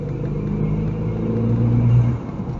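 Steady engine rumble and road noise from a blue Ford Fiesta ST2 driving along a seafront road, a low continuous drone that swells slightly as it pulls, heard from inside the car with no talking.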